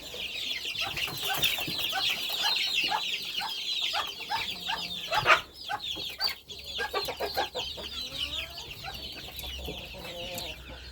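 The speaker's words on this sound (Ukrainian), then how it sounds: "це курчатко" Young farmyard chicks cheep in rapid high chirps, many overlapping and close, with a few louder calls from older fowl mixed in and no talk over them.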